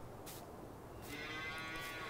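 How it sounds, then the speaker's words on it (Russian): Cattle mooing in the farming video game Farming Simulator 19: faint, drawn-out moos over a low ambient hum, with one clearer call near the middle. "Они уже начали мычать."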